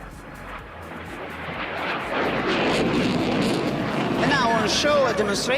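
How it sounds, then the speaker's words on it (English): A Eurofighter Typhoon flying a display at an air show, its jet engine roar building into a loud, sustained rumble that swells as it climbs away, with a commentator talking over it. "the Eurofighter snaps the energy back in no time and climbs away"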